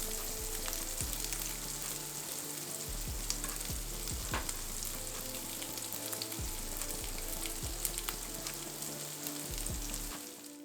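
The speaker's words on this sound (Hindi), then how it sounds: "अब हम इसमें थोड़ा कड़ी पत्ता डालेंगे।" Curry leaves sizzling and crackling in hot oil while frying sabudana khichdi, a steady close frying hiss with occasional soft stirring knocks, no voices.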